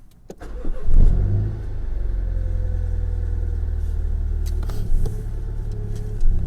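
A Mini F56 John Cooper Works car engine starts up and settles into a steady, low, close rumble while idling or pulling away, with a brief louder surge near the start and a slight swell toward the end.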